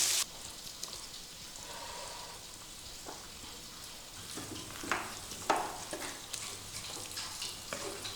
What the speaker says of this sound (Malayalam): ഇനി നമുക്ക് നന്നായിട്ടൊന്ന് ഇളക്കി കൊടുക്കാം